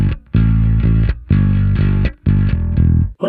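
Heavily distorted bass guitar through an amp simulation, playing chunky sustained notes in short repeated phrases, loud and thick, with brief gaps between.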